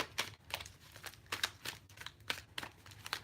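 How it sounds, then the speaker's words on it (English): Tarot deck from the Tattoos and Tarot line being shuffled by hand, a rapid series of crisp card riffles and flicks in an irregular rhythm, close and fairly quiet, with no talking. "Okay, one more shuffle here, and then go in the palm"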